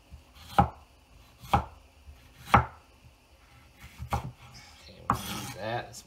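A kitchen knife chopping a bell pepper into big chunks on a cutting board, with about five distinct close knocks spaced roughly a second apart and faint scraping between cuts.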